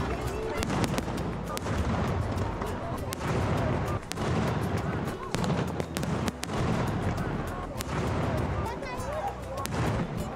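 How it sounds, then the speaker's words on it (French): Fireworks at the Saint John's midsummer night festival in Menorca crackle and thump continuously with repeated bangs and bursts, while crowd noise and voices mix in underneath. "Quand les feux de bois commencent à fléchir, les feux d'artifice prennent le relais."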